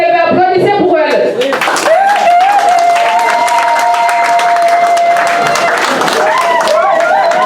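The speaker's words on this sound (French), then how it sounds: "toutes les femmes, vous devez applaudir pour elle" At a women's day celebration in Kabinda, an audience of women claps and cheers loudly, with high ululating voices and shouts riding over dense, sustained applause nearby.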